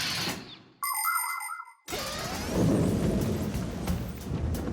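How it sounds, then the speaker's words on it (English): Cartoon thunderstorm sound effects: rumbling thunder bursts open and close the sequence, split by a short passage of bright chiming tones, with no speech. "This thunderstorm is really scary."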